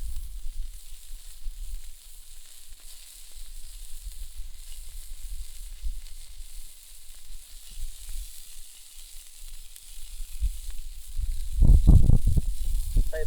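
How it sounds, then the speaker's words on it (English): A campfire burns during outdoor cooking, giving a steady, airy roar and hiss at moderate level, with a few louder crackles and a brief rough burst near the end. "that's the roar I love to hear from the fire"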